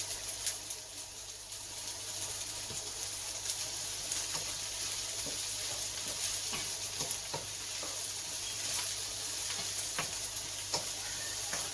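Vegetables and sausage fry in a pan and get stirred, giving a constant soft sizzle broken by the clicks and scrapes of the spoon against the pan over about twelve seconds, with no voices.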